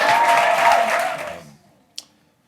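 Showcase audience applause for the Good Hair Company fades out within a second and a half, leaving near silence broken by one brief sharp knock.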